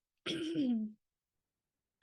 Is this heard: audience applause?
no